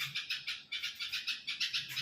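Bird chicks call from a nest high in a tree with a steady run of high, thin cheeps, about a dozen evenly spaced calls that are moderately faint and repeat without pause.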